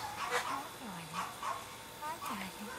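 Small dog whimpers and yips softly in a few short, rising whines, faint and close, with a person talking quietly over it.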